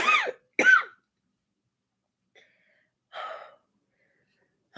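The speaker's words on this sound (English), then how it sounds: "the worse my cough get" Two sharp coughs in quick succession, followed after a pause by a softer throaty exhale, close and otherwise quiet.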